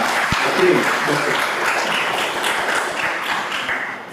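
An audience at an institution's 48th raising-day function applauds from their seats, a sustained dense clapping throughout with a sharp tap near the start.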